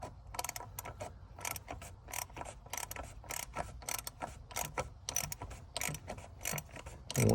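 Ratchet clicking in quick, rhythmic bursts while loosening the plastic oil filter cap on a RAM Promaster 3500 camper van, close and fairly quiet with brief pauses between strokes.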